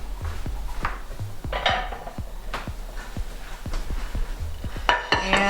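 Plates and kitchenware clatter and clink as a plate is taken out in a kitchen, a run of close, sharp knocks and ceramic clanks at an irregular pace, with some ringing scrapes near the end.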